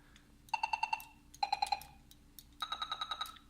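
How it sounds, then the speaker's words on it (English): An analog synthesizer gives electronic beeping tones in quick bursts, three groups of rapid pulsed beeps with pauses between, bright and synthetic, close and clear. "So it's set to sort of beeping tone sort of thing."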